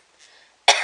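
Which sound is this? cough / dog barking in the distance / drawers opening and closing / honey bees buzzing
cough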